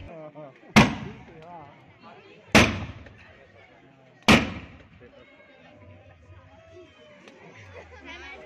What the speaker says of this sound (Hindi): बहुत ही धमाकेदार तरीके से पेपर शॉट पटाखे फोड़े जा रहे हैं